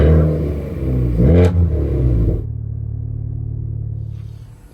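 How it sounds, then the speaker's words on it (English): Honda FK8 Civic Type R with an aftermarket exhaust revs loudly nearby, a rising rumbling burst that drops off after about two seconds into a steady idle drone. "Sounds like it has an exhaust on it already."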